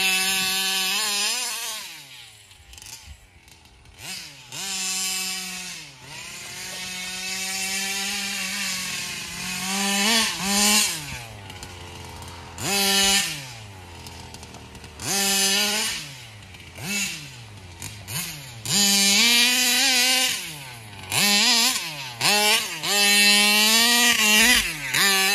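A Taylor 35cc gas engine RC car runs close by, its two-stroke engine revving hard in repeated bursts, pitch climbing and dropping between high buzzing pulls and brief idles.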